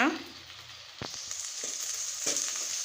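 Garlic and curry leaves frying in oil for a traditional kara kuzhambu, a steady soft sizzle with crackling bursts near one and two-and-a-half seconds as leaves hit the hot oil, close by and alone.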